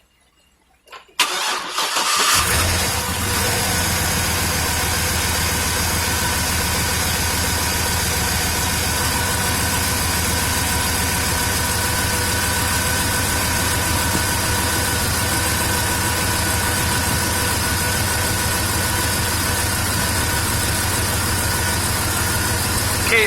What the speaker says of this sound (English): now that we have the car running, basically what we want to do is let it run for maybe about a minute